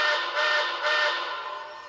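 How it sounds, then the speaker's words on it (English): Reverse signal on an MTH HO-scale Cab Forward AC-6 steam locomotive model with Proto 3.0 sound: three short whistle blasts sounded close together, close and steady, fading at the end with no talk. "which is simply 2 and 3 whistles respectively."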